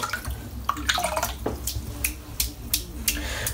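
Water splashes and drips as a shaving brush is dipped under running tap water, a few irregular wet bursts and drips, close and clear with no talking.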